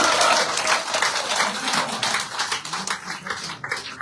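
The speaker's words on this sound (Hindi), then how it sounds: "जोरदार तालियों के साथ" A crowd at a BJP party office joining event breaks into loud, dense applause that starts strong and gradually thins into scattered claps.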